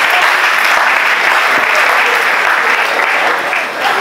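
A large audience applauds steadily and loudly at a French-language gathering, with dense continuous clapping throughout and no break.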